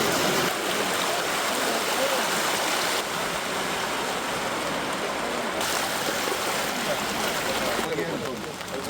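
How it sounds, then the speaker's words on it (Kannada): Floodwater rushing from the fully opened gates of Maravoor dam near Mangaluru into the river during heavy cyclone rain, a dense, unbroken roar of churning water that stays loud and close throughout. "ಮಂಗಳೂರಿನ ಹೊರವಲಯದ ಮರವೂರು ಡ್ಯಾಂನಲ್ಲಿ ಒಳಹರಿವು ಹೆಚ್ಚಾಗಿ ಎಲ್ಲ ಗೇಟ್ಗಳನ್ನು ತೆಗೆದು ನದಿಗೆ ನೀರು ಬಿಡಲಾಗಿದೆ"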